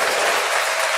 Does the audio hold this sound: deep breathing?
no